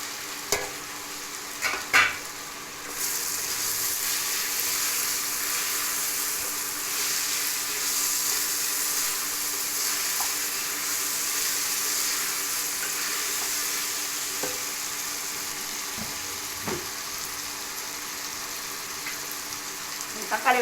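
Tomatoes sautéing in a pan for brinjal rice give off a steady, close sizzle that runs almost unbroken, with a few stirring scrapes and clinks near the start.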